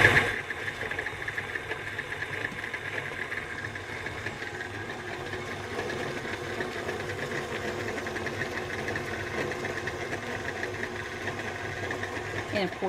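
Electric stand mixer creams butter, sugar and vanilla for soft chocolate chip cookie dough, a steady whirring motor hum with a faint rhythmic clatter running throughout, under a voice speaking.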